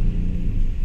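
A vehicle engine rumbles with a deep, steady low drone like a jeep, heard close and continuous over a short moment with no talk.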